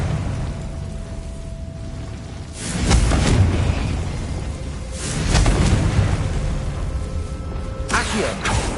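Two heavy explosive blasts from the Confringo spell in Hogwarts Legacy, each a loud booming burst with a rumbling tail, a few seconds apart, and a third smaller pop near the end.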